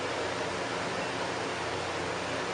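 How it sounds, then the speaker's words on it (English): An electric fan runs steadily in a room, a continuous broadband whoosh of moving air that stays even and unbroken throughout, with no voices over it. "I turned on the fan"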